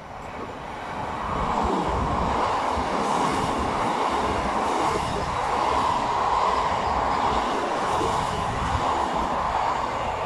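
A blue express train on the Daiyuzan Line roars steadily through a quiet station near Odawara, a loud continuous rumble with rattling wheels that swells after the first couple of seconds and holds.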